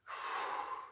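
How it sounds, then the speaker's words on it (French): A single sharp, breathy inhale during chair triceps dips in a home workout, close to the microphone and alone, lasting under a second. "J'inspire en descendant."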